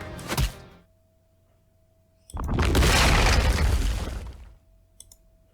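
A cartoon character smashed into a ceiling by an uppercut: a sharp thunk, then a loud crashing burst of debris lasting about two seconds, ending in faint clicks.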